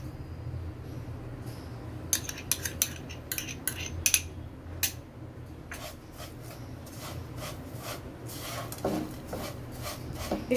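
Vermicelli (semai) is fried in ghee in a pan and stirred, with repeated sharp scraping and clinking of a utensil against the metal over a low background hiss. Quiet and close, with no speech.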